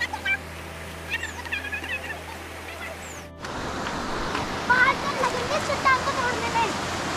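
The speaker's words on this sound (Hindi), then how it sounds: "नदी, जो कि हमारे गांव ऊपर जंगल से बह करके आती है" A mountain river flows down from the forest above a hillside village, rushing steadily and fairly close, a continuous broad wash of water that swells louder partway through, with faint voices and birdlike chirps mixed in.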